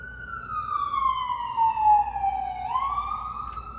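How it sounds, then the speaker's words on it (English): A police or emergency vehicle siren wails with a sweeping, falling and rising pitch. It sounds fairly close and loud and holds steady for several seconds. "You hear the alarm or the siren in the back."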